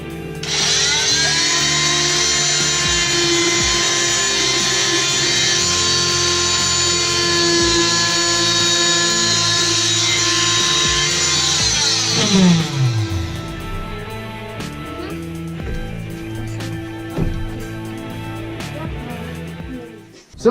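A power tool trims a carved Halloween pumpkin, giving a loud, steady high-pitched whine for about twelve seconds before it winds down and stops, followed by quieter handling noises.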